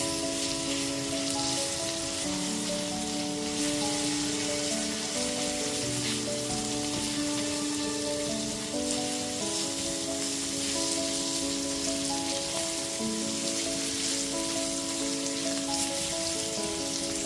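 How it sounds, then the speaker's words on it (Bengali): Ginger-garlic paste frying with onions in a pan for a Bengali jackfruit (echor) curry gives a steady, close sizzle that runs unbroken for the whole stretch, with no one talking. "আদা রসুন বাটাটা দিয়ে দেওয়ার পর পেঁয়াজের সাথে খুব ভালো মতো কষিয়ে নিয়েছি"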